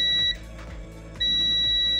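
A steady high-pitched multimeter continuity buzzer beeps twice while checking a GMA Affordabox 5-volt regulator IC, each tone held for a moment with a short gap between, over faint background noise.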